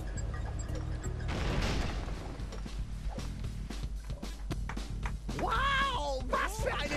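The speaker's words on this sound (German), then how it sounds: "Wow, was für eine Explosion." A booming explosion in Lego City Undercover with rumbling blasts and crackling debris, followed by rising tonal effects over a continuous low soundtrack.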